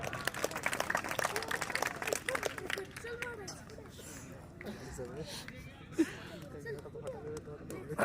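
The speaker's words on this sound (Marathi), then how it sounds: "टाळ्या दोघांसाठी" Crowd at a Kesari wrestling bout in Maharashtra claps loudly at first, then the clapping fades under a commentator's amplified voice, with one sharp thump near the end.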